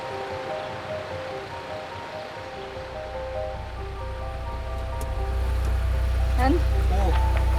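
An overland vehicle fords a river, rushing water and splashing building into a loud, steady wash that swells toward the end, with a voice speaking over it.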